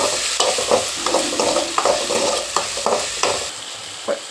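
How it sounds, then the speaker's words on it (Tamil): Hand-crushed tomatoes sautéing in oil in a pan for Bombay kurma, a continuous close sizzle broken by rhythmic scrapes and taps of a ladle stirring, no talking. "இதையும் நல்லா வதக்கி போட்டுடலாம்."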